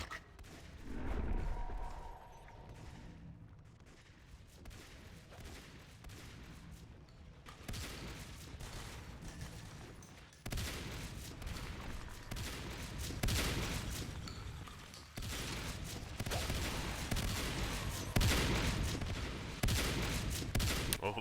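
Automated turrets firing in the Natural Selection 2 video game during a competitive match, a sustained rattle of rapid shots at moderate level that swells and continues throughout.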